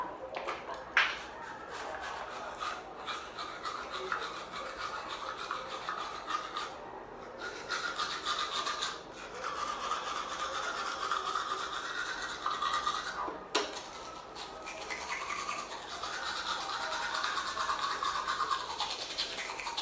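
A Colgate bamboo charcoal toothbrush scrubs teeth in steady wet, raspy strokes at close range, running continuously for about twenty seconds with brief pauses and no talk.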